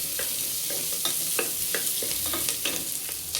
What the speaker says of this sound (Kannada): ಚೆನ್ನಾಗಿ ಫ್ರೈ ಮಾಡ್ಕೊಳ್ಳಿ, ಹಸಿ ವಾಸನೆ ಹೋಗೋ ತನಕ